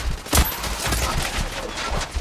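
Gunfire from a third-person shooter, The Order 1886 on PS4: a loud close shot opens a run of rapid, repeated reports and crackling impacts that continue throughout.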